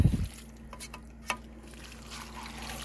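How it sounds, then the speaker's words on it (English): Goulash stirred with a flimsy spoon in a pot, a few soft scrapes and light clicks over a quiet background hum. "I'm just going to mix this up"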